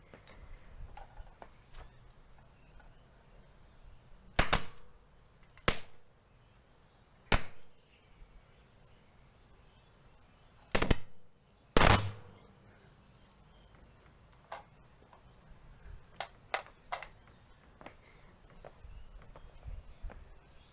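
A hard drive circuit board blows up, giving several sharp loud electrical cracks and pops scattered irregularly over about twenty seconds, with fainter crackles and ticks between them and no talk.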